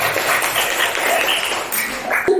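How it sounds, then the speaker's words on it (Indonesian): A classroom group claps for a student team's finished work, a steady, dense patter of many hands filling the room throughout, with a faint voice near the end. "Beri tepuk tangan dong, hasil karyanya keren."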